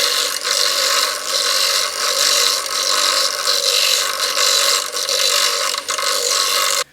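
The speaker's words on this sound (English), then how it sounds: "I'm going to grind the outside of that off gently on the stone so it just drops in and out" An old scrap wheel bearing ground down against a grinding stone, a loud continuous harsh grinding roar with slight surges, held steadily for several seconds before cutting off abruptly.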